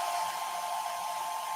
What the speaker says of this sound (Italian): Possiamo prendere un phon, no? Accendere il phon